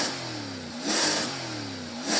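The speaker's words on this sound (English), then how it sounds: "because I'm going to rev up this American V8" An American V8 in a Chevrolet Corvette revs twice from idle, each blip rising sharply then falling back, heard close and alone with no talk.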